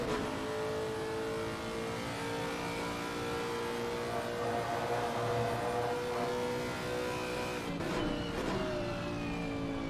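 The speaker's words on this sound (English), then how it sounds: "Let's get this bumper cam going down through the fast braking zone here." A GT race car in a racing video game runs through the fast braking zone at Misano, heard from a bumper camera as a loud, steady engine drone that shifts pitch toward the end.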